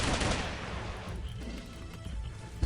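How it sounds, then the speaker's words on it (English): Sustained gunfire in Red Faction 2 aimed at the player, a dense continuous barrage of rapid shots and blasts filling the whole moment, loud and close. "I'll just stand here getting shot at the entire time"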